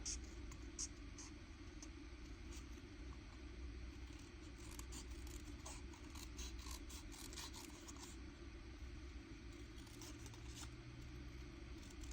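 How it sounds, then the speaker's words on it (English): Scissors snip and scrape through black paper for a junk journal, with a run of small crisp cuts and rustles close by over a low steady background hum. "I'll just cut the black one out so we can decide on black or green."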